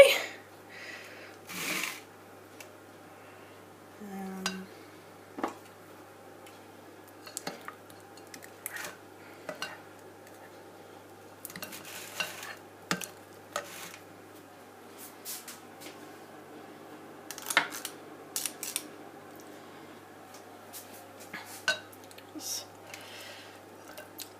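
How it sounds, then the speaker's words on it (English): A spatula scrapes the last of the sponge batter from a mixing bowl, with quiet intermittent scratchy strokes and small clinks scattered across a mostly hushed background. "Just going to give it a bit of a scrape."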